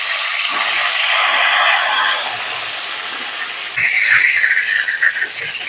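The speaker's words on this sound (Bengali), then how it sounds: "আমি এই মাথাটা আগে ভেজে নেব।" A catla fish head fries in mustard oil in a wok, giving a loud, steady sizzle and hiss that eases slightly midway, then flares up again near the end. No one speaks.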